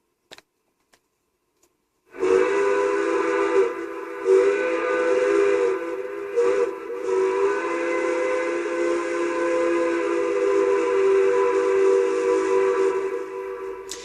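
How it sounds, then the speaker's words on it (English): A loud, sustained steam whistle blast from a Massoth eMotion XLS sound module in a Bachmann Anne model locomotive, holding steadily for about twelve seconds with a brief wavering dip partway through. "So that's the train whistle there."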